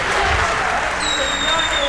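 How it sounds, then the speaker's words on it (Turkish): Audience applauding at a Turkish political speech, a dense, loud, continuous wash of clapping with crowd noise and voices mixed in throughout. "Niye alkışlıyorsunuz arkadaşlar?"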